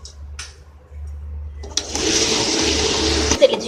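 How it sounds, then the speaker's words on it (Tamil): A wet grinder starts up grinding soaked rice with pepper, cumin and salt for kolukattai, a steady broadband whirring roar that runs close and loud after a quieter start with a low hum. "இப்போ இந்த தண்ணியை கொட்டிட்டு நம்ம கிரைண்டரில் கிரைண்ட் பண்ணிடலாம்."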